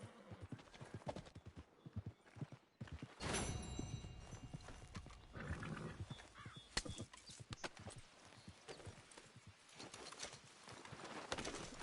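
A horse clip-clops along in the Red Dead Redemption 2 video game, its hooves a steady run of clear rhythmic close thuds lasting throughout, with a brief whinny and some faint ambient bird sounds.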